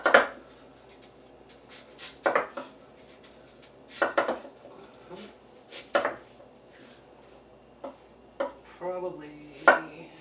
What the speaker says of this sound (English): I'm going to chop up my apple